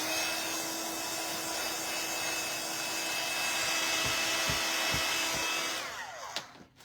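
A heat gun blows steadily and loudly for about six seconds while ink is dried in a papercraft setting, then cuts off, leaving a few faint knocks.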